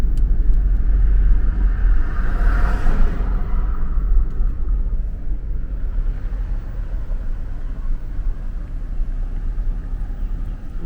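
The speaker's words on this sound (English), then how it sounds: "as I drive through yet another beautiful neighborhood" A car rolls through a leafy residential neighborhood in a prosperous Minnesota town, heard from inside as a steady low rumble of engine and tires with a brief swell of passing noise early on.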